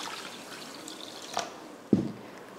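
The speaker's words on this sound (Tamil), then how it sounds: "இப்போ இதை தண்ணி ஊற்றி கழுவிட்டு ஊற வச்சுக்கலாம்." Water is poured over wheat rava (semolina) to wash it, giving soft trickles and one brief, close splash near the end, with no talk.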